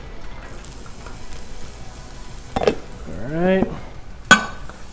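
Chopped onions hit a hot Blackstone flat-top griddle for a beef and broccoli stir fry, giving a low steady sizzle with a few sharp metal spatula scrapes and clanks. Someone says a couple of words.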